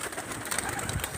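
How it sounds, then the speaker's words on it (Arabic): Pigeons in a rooftop loft give a steady, muffled cooing and fluttering murmur under a busy, noisy background, fairly close and continuous throughout. "بص ده حمامنا اهو، ده حمام الاوله اهو"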